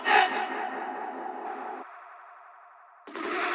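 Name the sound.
echo effect added to a music track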